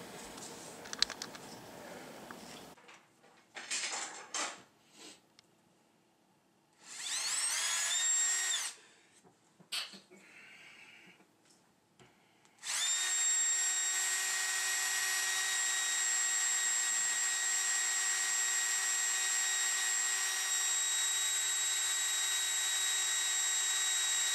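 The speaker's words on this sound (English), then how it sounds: "we will drill pilot holes there." A power drill whirs in short bursts drilling pilot holes on a boat, then runs steadily at a high pitch for a long stretch, with brief clicks and handling noises between runs.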